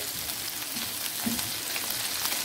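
Finely chopped garlic fries in a pan, giving a steady, close sizzle with light crackle that runs evenly throughout and has no talk over it.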